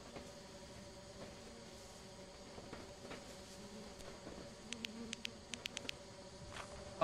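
Bees buzzing around a hive in Lethal Company, a faint low drone under quiet background hum, with a quick run of short, sharp clicks near the end.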